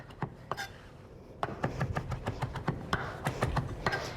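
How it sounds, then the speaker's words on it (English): Fresh dill chopped with a knife on a board, a quick run of crisp, close knife taps speeding into a dense, even rhythm after a short pause. "give your fresh dill a good chop"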